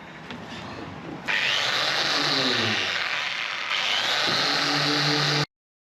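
Varnished wood being sanded with 320 grit sandpaper, probably by a power sander, a loud continuous whirring rasp that starts partway in, holds steady for about four seconds, then cuts off abruptly.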